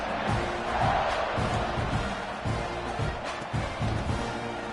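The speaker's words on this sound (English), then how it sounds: "this crowd is buzzing after that last score" Stadium crowd at a college football game between Texas A&M and #25 Auburn, buzzing after a score: a steady, loud roar of many voices with swelling pulses of cheering throughout.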